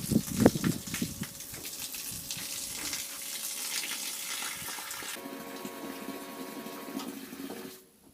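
A solar-powered pump sunk in a 200-litre barrel pushes water out in a steady, fairly quiet gush and splash. The flow runs for about seven seconds, then cuts off abruptly at the end.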